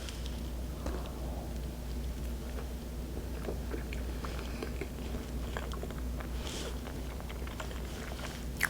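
Someone eating soft, moist chocolate chip roll bread from a convenience store, with faint, quiet chewing and soft bite sounds close to the mic, steady under a low background hum.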